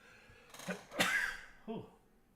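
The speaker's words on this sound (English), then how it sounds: "Excuse me, I got to sneeze." A man sneezes close to the microphone, a sharp explosive burst after a quick intake of breath, with a small follow-up breath afterward.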